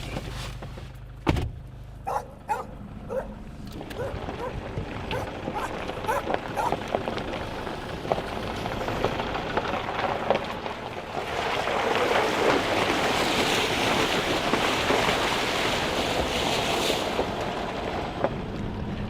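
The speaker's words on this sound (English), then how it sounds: "Now we've just driven through a nice little creek." A farm vehicle drives through a flowing creek with a steady, close engine rumble and buffeting wind noise, building into a broad rushing wash of water and splashing through the second half.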